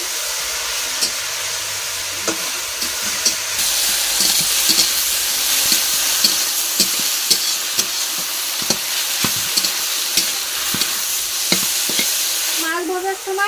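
Leafy greens (dali shak) sizzle in hot oil in a pan while a spatula stirs them, giving repeated scraping strokes over a steady frying hiss, close and fairly loud, with no talking.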